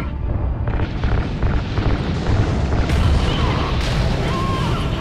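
In Call of Duty: Ghosts, igniting RCS fuel lines sets off a loud, sustained roaring blast, a dense rumbling burst that swells and keeps churning without letup.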